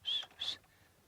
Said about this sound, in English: You can hear the waxbills going.